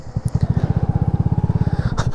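A Honda Grom motorcycle rides along an icy road, its small single-cylinder engine thumping in a rapid, even pulse up close, with a faint brief noise near the end.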